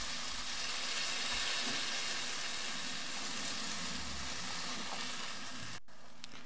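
Water poured into a hot pan for an Algerian white-sauce dolma, giving a loud, steady hiss of sizzling steam that carries almost to the end before cutting out abruptly, no speech.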